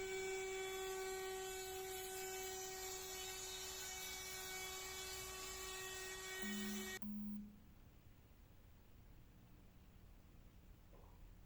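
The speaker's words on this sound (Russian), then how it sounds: "Опять шлифовка." Power sander working a wooden false beam for a fireplace, a steady loud whine with a strong tonal hum that runs continuously, then cuts off abruptly partway through, leaving quiet room noise.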